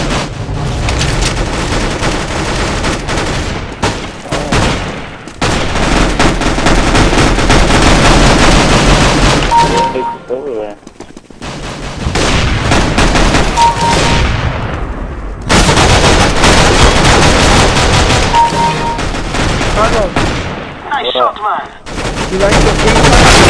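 Loud, rapid bursts of automatic gunfire in Counter-Strike: Global Offensive Arms Race, repeated volleys broken by brief quiet gaps, with game sounds and voices mixed in.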